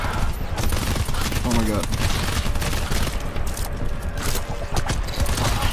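Dense gunfire and clattering combat noise in the video game GTFO, with shotgun blasts mixed into continuous loud shooting while players shout over it.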